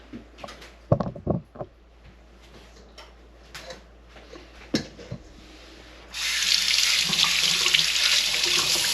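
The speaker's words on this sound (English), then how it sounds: "I'm going to take this over to the sink and I'm going to run some water through it." Faint rustling and a few knocks, then a steady hiss of tap water rushing through a strainer starts and runs loud to the end.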